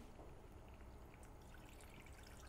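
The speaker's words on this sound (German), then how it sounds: "und werde jetzt Weißwein drauf gießen." Riesling white wine poured into a pot holding fresh tarragon and peppercorns, a soft, steady liquid trickle heard very quietly and close, with no voices.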